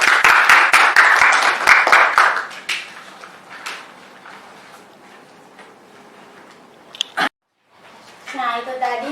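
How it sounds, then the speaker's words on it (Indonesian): Classroom applause after a student group's presentation in a biology microteaching lesson on mitosis: a burst of close, crisp clapping that fades after about three seconds, followed by quieter room noise, a brief silence and then a voice. "Tepuk tangan."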